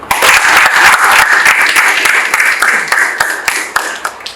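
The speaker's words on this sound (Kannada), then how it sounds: "ನೀವೆಲ್ಲರೂ ಸರ್ಗೆ ಚಪ್ಪಾಳೆ ಕೊಡ್ತಾರೆ" Loud, dense clapping from a live audience at an academy talk event rises quickly and fades near the end, with individual sharp claps standing out.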